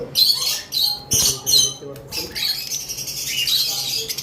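Green opaline lovebirds, a pair in a bird shop, give sharp, close, repeated squawks and chirps in short bursts, with a voice speaking faintly in the background.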